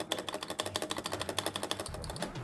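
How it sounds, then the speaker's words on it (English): Keys of a new mechanical keyboard clack in a fast, steady run of sharp taps up close, the spacebar stabilizer adding a rattle, with a faint low hum underneath and no talking. "I do not like the stabilizer, especially the spacebar. It rattles a lot"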